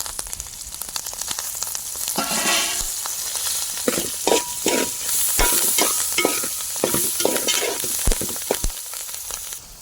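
Curry leaves, crushed garlic, onion and green chillies frying and sizzling in oil, with steady crackle and stirring scrapes at close range, no voices.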